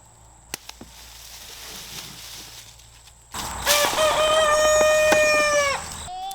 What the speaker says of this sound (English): you all just heard that rooster